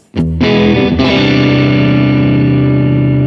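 A distorted electric guitar chord through a Vox AC30 amp plugin is struck, then struck again and left ringing, loud and sustained with a thick, buzzing amp tone.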